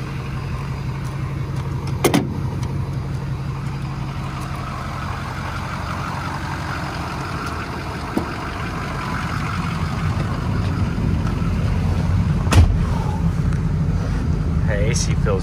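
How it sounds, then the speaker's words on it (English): A 2006 Ford F-250 Lariat with a 6.0L Powerstroke diesel runs with a steady low rumble heard from inside the truck, with wind noise and a few clicks over it. The engine builds slightly toward the end. "Motor sounds fantastic."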